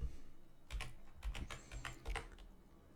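Someone types on a computer keyboard while setting up a Nuclei vulnerability scan, producing a quick close cluster of crisp key taps spread over a few seconds, with no speech.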